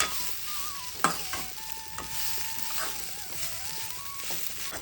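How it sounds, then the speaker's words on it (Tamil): Semolina roasts in a kadai while being stirred, soft sizzling with scraping and a sharp knock of the spoon against the pan, plus a faint thin tone running underneath. "ரவை பார்த்தோம்னா நல்லா வறுத்துட்டோம் நல்லா பொன் நிறமாக இருக்குது நல்லா உதிரி உதிரியாக இருக்குது"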